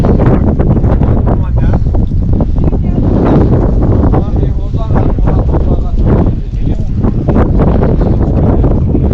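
Strong wind buffets the microphone outdoors on a highland pasture in a loud, constant roar that gusts and rumbles throughout.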